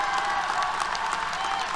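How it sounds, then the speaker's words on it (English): Audience applause at a Texas A&M University-Corpus Christi summer commencement ceremony, a steady, dense wash of many hands clapping at even loudness throughout, with no voices over it. "Let's give her a round of applause"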